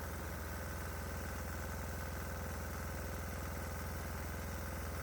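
A diesel engine fed hydrogen and oxygen gas idles with an even, rumbling throb, close and constant throughout, with no voices over it.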